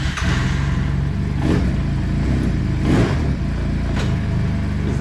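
A 2023 Braap Moto 4 motorcycle, unregistered and ridden on a private estate, drones steadily with a dense engine note and a few brief rises in revs, close and continuous with no voices.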